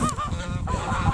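A male goose honks loudly and repeatedly at close range in a harsh, nasal series while attacking, with no talk over it.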